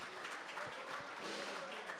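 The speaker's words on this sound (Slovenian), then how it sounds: "Namenimo jim še en bučen aplavz, spoštovane dame in gospodje" Crowd applause for a troupe of majorettes at an outdoor spring agricultural and crafts fair in Komenda, a steady dense wash of many hands clapping at moderate distance, with no clear voices over it.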